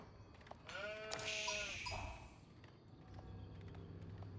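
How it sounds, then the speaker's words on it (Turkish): Sheep bleating in the video game Age of Empires IV, one clear wavering bleat mid-clip over faint in-game ambience and light footstep-like ticks, with no talk. "Şurada bir tane koyun bulduk."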